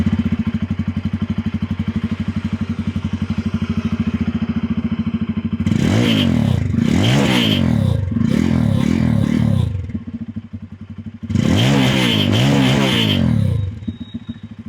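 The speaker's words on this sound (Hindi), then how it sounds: "तो भाई चलिए सुन लेते हैं पल्सर N250 के एग्जॉस्ट साउंड को।" A Bajaj Pulsar N250 motorcycle with a twin-barrel exhaust idles with a deep, throbbing note, then revs hard in several sharp bursts, a pause, and another rising rev before settling back to idle.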